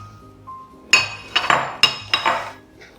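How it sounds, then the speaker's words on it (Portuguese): A few sharp clinks of a utensil against a bowl as chickpeas and onions are added for a salt cod and chickpea salad, three or four close, bright knocks in quick succession. "Vou colocar o grão de bico, as cebolas,"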